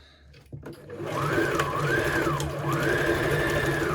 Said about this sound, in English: we're going to do zigzag stitch here, one here, and doing a wee back stitch at the beginning and the end.